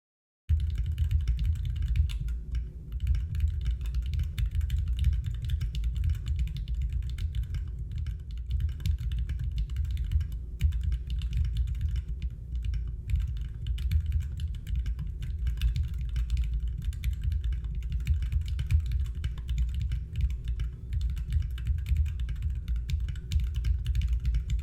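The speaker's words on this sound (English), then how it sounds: "Here comes the candy bar typing test." Continuous rapid clacking of a Candybar R3 custom mechanical keyboard being typed on at speed, close and steady throughout, with a low rumble underneath and no talking.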